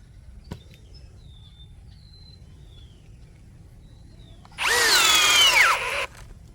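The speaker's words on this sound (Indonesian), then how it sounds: "Selanjutnya Tekiro 19 mm, kecepatan nomor 2, mode drilling." A Tekiro XV20 drill fitted with a 19 mm bit, set to speed 2 in drilling mode, whirs loudly and close for about a second and a half after a quiet lead-in, then cuts off abruptly.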